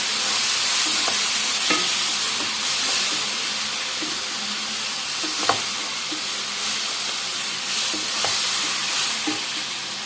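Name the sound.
stirring tomato puree into egg omelet curry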